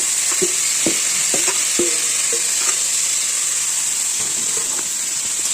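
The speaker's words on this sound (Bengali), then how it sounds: "লাল শাকটা দিয়ে আমি নাড়াচাড়া করে আমি মশলাটা দিয়ে দেবো" Red amaranth greens sizzling in oil in a wok, a continuous bright hiss broken by several light scraping stirs of a spatula, close and without talk.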